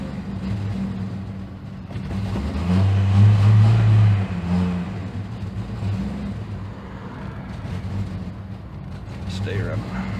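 A Jeep with a suspected faulty alternator runs close by, rising into a strong rev partway through and then settling back into a rough, steady run.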